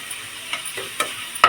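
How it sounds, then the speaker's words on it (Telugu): Tempering spices fry in hot oil for upma, a quiet low hiss broken by a few sharp pops and spits, the last one loudest, with no voices. "పోపు అయితే వేగుతుందండి"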